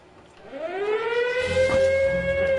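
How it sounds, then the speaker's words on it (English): Air raid siren in the video game 60 Seconds, a single wailing tone rising steeply in pitch and then holding, loud and alone, with a low rumble joining partway through. "Siren's pretty loud too"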